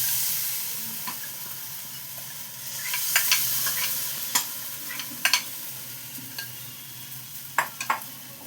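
Thin batter for egg roll flatbread sizzles in a little oil in a pan with a soft, continuous hiss, broken by several sharp pops and spatula clicks close by.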